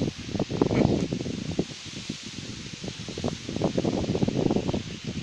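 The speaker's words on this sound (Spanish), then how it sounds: "Y todo el viento ahí que suena." Wind blowing in the mobile game Clash Royale, a steady breathy whoosh with rustling gusts that rise and fall throughout, moderately loud with no talk.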